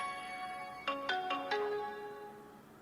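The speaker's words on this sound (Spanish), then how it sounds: "Ahora sé cómo suena Intel, no sabía cómo sonaba." The Intel sound logo jingle plays as part of a logo sound guessing game on Android: four bright, bell-like chime notes in quick succession, ringing out clearly and fading after about a second.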